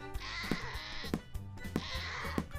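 A goat bleats loudly and close by in repeated wavering cries, about two long calls with short breaks, with no voices over it.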